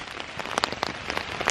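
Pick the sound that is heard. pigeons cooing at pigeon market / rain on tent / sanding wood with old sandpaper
rain on tent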